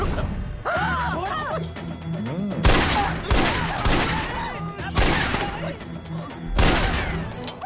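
Rapid bursts of gunfire in a Hindi-dubbed South Indian action movie scene, repeated volleys of sharp cracks and crashes with dramatic music and occasional voices layered over them.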